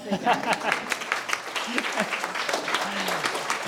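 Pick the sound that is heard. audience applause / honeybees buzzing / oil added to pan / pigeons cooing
audience applause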